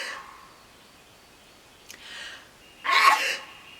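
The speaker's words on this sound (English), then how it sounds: "That dirt has made me sneeze." Sneeze from a person harvesting garlic outdoors, set off by dirt: a faint breathy intake followed by one loud, sharp, close burst at the end, with no talking.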